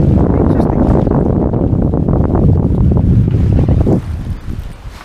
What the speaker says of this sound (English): just getting the wind in from behind